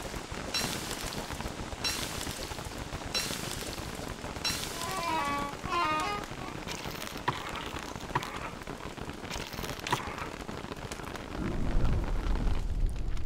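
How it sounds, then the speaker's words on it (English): Steady rain falling in the video game Don't Starve, a dense continuous hiss of drops throughout, with a louder low rumble swelling near the end, no talking. "Stop raining."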